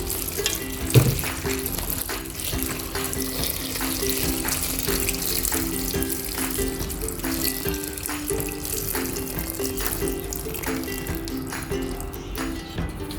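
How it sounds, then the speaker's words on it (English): Water streams steadily into a pot holding ramen broth spices (bay leaves, cinnamon sticks, pepper, cloves, cardamom), a continuous close splashing and gurgling pour lasting several seconds, with a brief clank near the start. "Now let's add some water."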